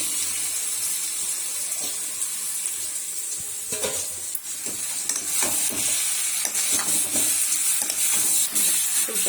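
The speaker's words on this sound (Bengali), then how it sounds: "এবার সবজিটা ঢেলে দেবো।" Cauliflower and potato tip into a pan of frying spice paste, giving a steady loud sizzle with scraping and stirring clatter throughout. No one speaks.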